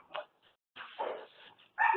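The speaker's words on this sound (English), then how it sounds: "That's not my dog" A dog barks a few times in the background of an indoor lecture, short sharp yaps separated by brief pauses, moderately faint.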